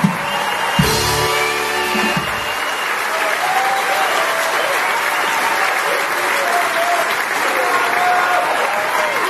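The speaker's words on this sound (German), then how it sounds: "nimm den Applaus" Audience applause at a German carnival session (Bohnebeitelsitzung) for a comedy act, dense steady clapping filling the whole stretch, with a brief burst of voices or music near the start.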